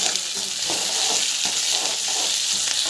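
Mustard seeds, onion and chana dal fry in oil, producing a dense, continuous bright sizzle with faint stirring beneath, close and steady throughout.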